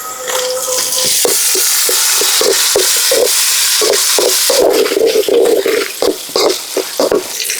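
Tomatoes, ginger, garlic, green chillies and curry leaves sauté for a Tamil-style crab masala, giving a steady loud sizzle with repeated scraping, stirring strokes in an even rhythm.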